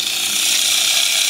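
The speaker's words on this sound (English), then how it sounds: "There's the motor. So this is exactly what I was after, a slow start DC pump." A Jebao ECO TECH slow-start DC water pump motor running on solar power, a steady close mechanical whir with a faint ratcheting texture, alone and unbroken.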